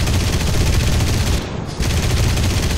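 Cannon fire from an aircraft in the War Thunder video game rattles as a dense, sustained burst of rapid shots, briefly pausing before resuming, loud and close.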